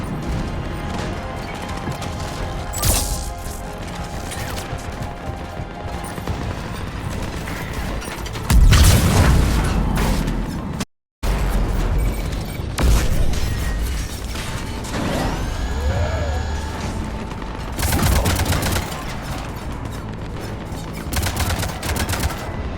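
Heavy cannons open fire in the Mass Effect 3 Legendary Edition assault on Omega, a dense, loud barrage of repeated bursts with mechanical clanking, a sudden swell of booming blasts, a brief dropout, then continued battle noise.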